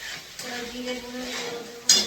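Masala for a Bengali-style Ritha fish curry being stirred and sautéed in a pan, a brief close scrape over light sizzle, ending with a sharp metallic clink.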